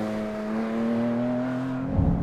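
Porsche 718 Cayman GT4 RS naturally aspirated engine revving hard, a loud, sustained howl with a clear steady tone that drops into a rougher bark at the end, heard close with no talk.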